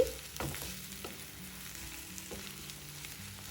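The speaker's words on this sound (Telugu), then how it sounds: "పొడి పొడిగా అయ్యే వరకు కూడా దీన్ని వేయించుకోవాలి." Cabbage and egg frying in a pan, a steady low sizzle with a few soft stirring scrapes and clicks throughout, close and fairly quiet with no talking.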